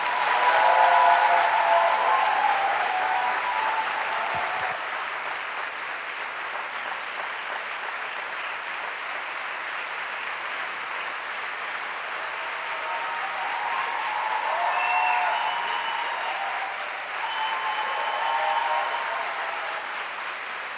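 A church congregation at a welcome-home service applauds a returning missionary with long, steady clapping. It swells at the start, settles, then rises again in later waves, with faint voices and cheers mixed in.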